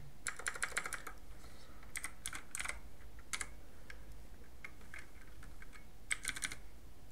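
Typing on a computer keyboard to enter an account name into an online store settings page: light, quick key clicks come in short bursts with brief pauses, close and fairly quiet, with no talking.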